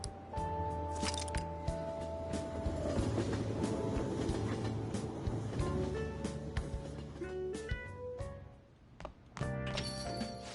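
Train pulling into a station in Persona 5 Royal, a steady rumbling rolling noise with clicking and squeaking against layered game music and tones, loud throughout with a brief dip near the end.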